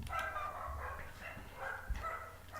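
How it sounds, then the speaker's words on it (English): Several neighbouring dogs bark and yip in the distance, a steady stream of mid-pitched barks spread through the whole stretch, fairly faint and with no one talking over them. "I'm sorry about my neighbor's dogs."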